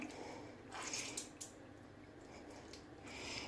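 Wet, soft squishing as homemade mozzarella is wrung out by hand to press out its water, a few faint squeezes with light drips in a quiet room.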